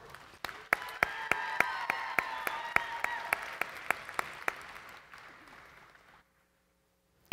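Sharp claps ring out over a softer bed of applause from a state convention audience, fading out and ending in near silence.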